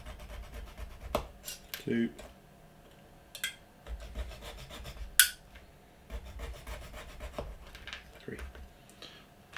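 A model propeller part for a scale FW 190 is hand-cut with a 90-degree cut, giving quiet, scratchy rasping strokes in short bursts with pauses between them. A voice speaks briefly.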